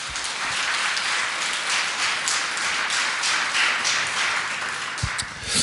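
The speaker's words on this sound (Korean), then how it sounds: "성가대에게 큰 박수 드리죠" A church congregation applauding its choir at a Sunday Epiphany service, with steady, loud clapping from many hands filling the room that trails off near the end, and no talking during it.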